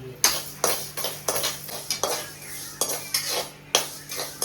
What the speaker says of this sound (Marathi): आता ही मोहरी भाजून घेतली. पहिला कोरडे मसाले आपल्याला भाजून घ्यायचे.